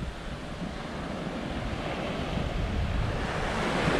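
Ocean waves washing onto a Grand Cayman beach with wind buffeting the microphone, a continuous loud broadband roar of surf swelling slightly, no voices.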